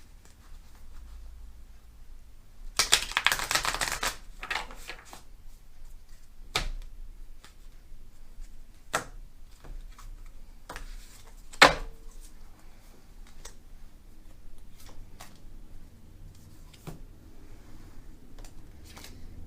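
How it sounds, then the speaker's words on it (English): Tarot cards are shuffled in a quiet room, with a short burst of rapid riffling near the start followed by scattered soft taps and clicks of cards being handled and squared, and no speech. "Let's do a shuffle here."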